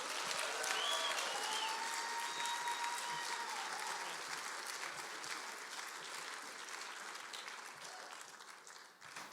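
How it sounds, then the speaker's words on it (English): An audience at a TPUSA Faith event breaks into sustained, dense applause, a steady wash of many hands clapping in a large room, with a few faint cheers early on and a gradual fade near the end. "Please clap it up for Rob McCoy."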